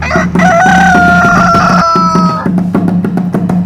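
A rooster crows loudly and close by, one long drawn-out call, followed by a run of clucking.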